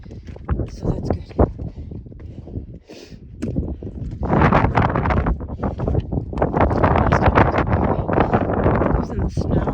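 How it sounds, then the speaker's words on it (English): Gusty wind buffets the microphone in rough, roaring bursts, strongest in the second half, with a voice talking underneath. "it's super, super windy"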